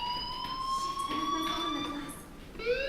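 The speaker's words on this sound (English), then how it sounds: "do you hear that fire alarm? That means you should be outside." A fire alarm in the video game Life is Strange rings in a high, insistent electronic tone for a few seconds, moderately loud, and briefly breaks off before starting again near the end.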